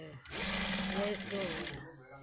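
A close sewing machine runs in one steady, whirring burst of about a second and a half, stitching lace onto patchwork, with a voice faintly audible underneath.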